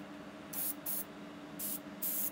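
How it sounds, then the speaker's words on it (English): An airbrush sprays paint onto a 3D printed model kit in four short, light hissing bursts separated by brief pauses, close and fairly soft, with no talking. "That's how much you want to spray."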